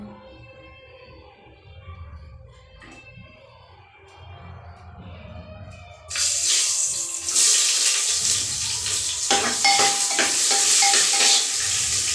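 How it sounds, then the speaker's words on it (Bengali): Whole garam masala, bay leaves and onion dropped into hot oil: after a quieter stretch with a faint melodic background, a loud sudden sizzle erupts and keeps hissing steadily close up, with some stirring. "তেল গরম হয়ে গেছে, গোটা গরম মশলা, তেজপাতা আর অল্প করে পেঁয়াজ দেব।"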